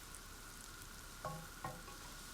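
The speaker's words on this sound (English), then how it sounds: "I'm frying them in cold-pressed rapeseed oil, which has a wonderfully mustardy flavour" Onions frying in cold-pressed rapeseed oil, a faint steady sizzle in a quiet kitchen with two soft clinks of a utensil.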